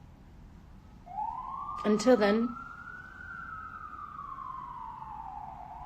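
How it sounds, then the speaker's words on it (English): Emergency vehicle siren on a New York street, a single rising then slowly falling wail drifting in from some distance, with a woman's brief speech over the start of it. "Sirens. Every fucking 5 seconds."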